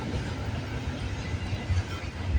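A CN freight train bound from Halifax's Rockingham Yard to Brampton Intermodal Terminal rolls past in Vaughan, Ontario, a steady close low rumble with heavy wheel and car noise.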